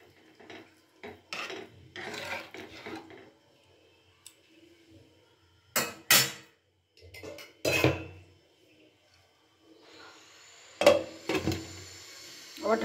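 A lid is set onto a cooking pot while a small-fish amudi chorchori cooks in a home kitchen. Several short metallic clanks and scrapes come in separate bursts, close and fairly loud, with quiet pauses between them.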